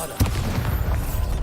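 A Bombarda blasting spell going off in Hogwarts Legacy, one sudden deep boom followed by a rumbling tail. It is fairly loud and heard alone.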